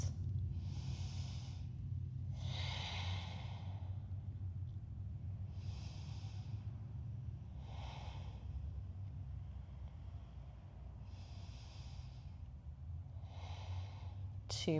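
Slow, deep breaths during a yoga leg stretch, roughly six long airy inhales and exhales, soft and close over a low steady background rumble.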